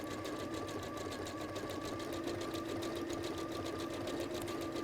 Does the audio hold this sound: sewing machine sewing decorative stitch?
yes